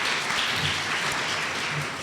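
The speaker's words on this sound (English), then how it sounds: "So if we could have a quick round of applause for them too" An audience at an academic awards event and journal launch gives the editors a quick, steady round of applause, a dense clapping texture that holds evenly and tapers slightly at the end.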